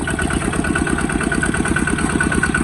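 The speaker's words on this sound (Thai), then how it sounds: "ยังใช้รถ ไถนา อยู่เมืองไทยเพื่อกระชิดใช้รถไถรถเกี่ยวละ" Engine of a two-wheel walking tractor used for plowing rice fields chugs loud and close in a steady rapid rhythm, running continuously with no voices.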